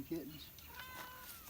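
A young kitten gives one short, thin meow close by at the start, then faint cat sounds trail off under quiet background noise.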